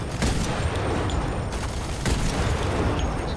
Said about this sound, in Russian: Снайперская винтовка Шуллер.